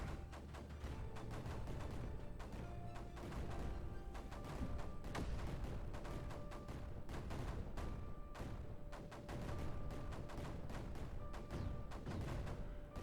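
Cannons firing in Creeper World 4, a steady dense stream of soft thumping shots and clicks layered over a continuous low rumbling game backdrop, faint and unbroken throughout.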